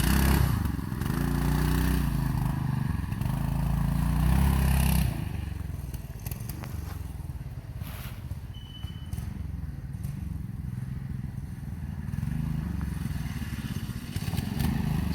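Manco Fat Cat go-kart with a new engine running while driving over rutted ground, a steady loud droning engine with rattles and clatter, easing slightly partway through.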